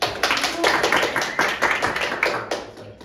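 One person claps their own hands in a lesson setting, a quick run of sharp, close claps in an uneven rhythm with no other sound around them.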